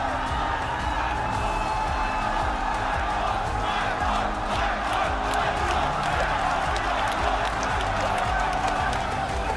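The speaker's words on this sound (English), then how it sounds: "people are very loudly cheering for you" A large arena crowd at an esports grand final in Singapore roars and cheers continuously, with whoops and clapping blended into a dense, loud, steady wash throughout.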